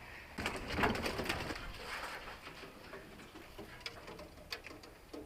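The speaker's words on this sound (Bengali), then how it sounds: "আমাকে দেখে অনেকগুলো কবুতর বের হয়ে গেল" Pigeons coo softly inside a loft while several birds flutter out, with brief wing flaps and light clicks over a quiet background and no talk.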